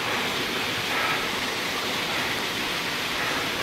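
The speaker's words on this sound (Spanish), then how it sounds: "Que aquí hay otra cascadita preciosa." Small waterfall pouring in a canyon during a descent, a steady, full rush of falling water that stays even and close throughout, with no voices over it.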